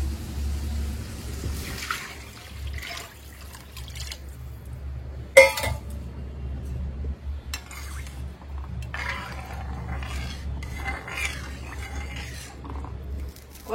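A pan of water heats on the stove for samba rava upma, with faint bubbling and gurgling under a low hum, broken by a sharp clink and scattered rustling of cookware.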